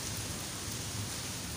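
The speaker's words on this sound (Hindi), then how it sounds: "ये बारिश और हवा का शोर है" Heavy rain falls with gusting wind in a sudden storm, a dense, steady roar of drops that fills the whole stretch without pause or voices.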